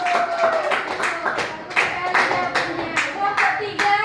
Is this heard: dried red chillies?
no